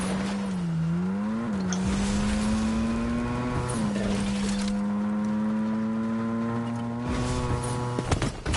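A car driving in Fortnite, its engine holding a loud steady drone with pitch bends as it speeds up and slows, and scattered thumps toward the end.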